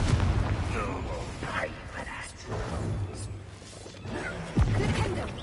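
Confringo explosive spell blasts in Hogwarts Legacy, booming impacts and crashes amid battle noise, with a sharp hit near the end and voices talking over parts of it.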